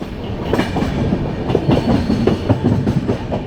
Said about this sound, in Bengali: 12370 কুম্ভ এক্সপ্রেস ছেড়ে দিল দীনদয়াল উপাধ্যায় জাংশন